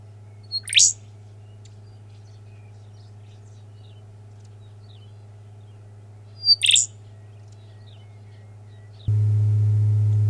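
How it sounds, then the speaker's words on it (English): Two short bright chirps spaced several seconds apart from birds in the outback around Farina, South Australia, where zebra finches and rufous songlarks call, over a steady low hum that swells louder at the end; no voices. "From the almost electric chirp of the zebra finch to the more melodic rufous songlark."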